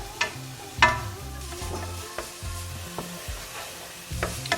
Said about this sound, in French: Une fois que c'est chaud, vous mettez vos oignons et votre ail dans la poêle.